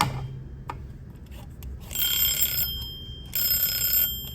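A kitchen-style timer alarm beeps in two rapid, shrill, ringing bursts separated by a short pause, close and loud over a low background hum, with no talking.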